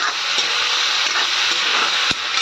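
A steady, loud sizzle of chicken frying in a pan fills the whole stretch, with faint stirring clicks and no voices.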